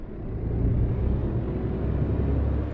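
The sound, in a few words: truck engine driving in video game Euro Truck Simulator 2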